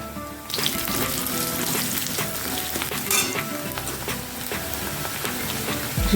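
Chopped onion frying in a pan with chili powder being stirred in, a dense continuous sizzle with scraping spoon strokes, close and loud.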